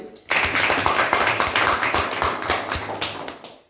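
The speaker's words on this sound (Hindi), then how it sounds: "चलिए एक बार शानदार ताली।" Audience at an open meeting in Rajdhanwar breaking into enthusiastic applause, a sudden loud onset of rapid, close clapping with distinct individual claps that holds steady and then tapers off.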